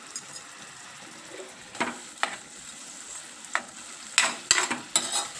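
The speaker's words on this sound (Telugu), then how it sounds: "కర్రీని ఇలా తిప్పుతూ ఉండాలి" Chickpea curry frying in hot oil while being stirred, a constant low sizzle broken by several sharp scrapes and clatters of the spoon against the pan, growing busier toward the end.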